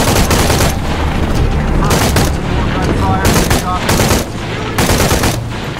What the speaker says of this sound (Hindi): Let us know when the gunshots come out.